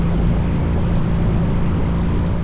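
Small propeller airplanes taxiing on an airport ramp, a loud, steady engine drone with a low hum filling the whole stretch, no voices.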